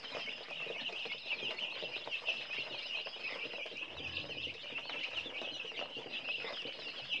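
Free-range Lai fighting chickens on a farm clucking and chirping, a continuous faint chorus of many birds with occasional wing flaps and shuffling.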